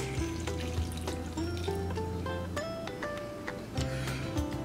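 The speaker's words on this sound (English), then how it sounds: "and pour all over our cabbage." Marinade is poured over shredded cabbage, a soft close liquid splatter and trickle heard faintly, with gentle music playing behind it.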